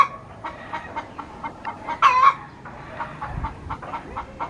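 Chickens clucking in a rural provincial yard, a series of short, moderately near clucks and calls in an uneven rhythm, with one louder, longer squawk midway.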